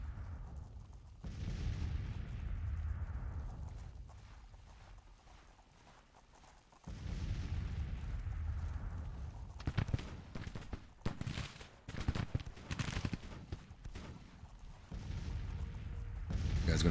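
Musket volleys and artillery booms in the Civil War strategy game Grand Tactician, a low rumble of distant cannon fire followed by scattered sharp musket cracks and repeated bursts, moderately loud and steady for many seconds.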